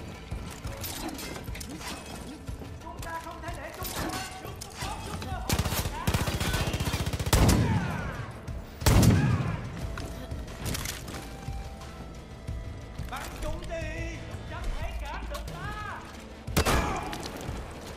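Gunfire in the video game Far Cry 5, with bursts of shots and heavy thuds amid music and game effects while people shout over the action.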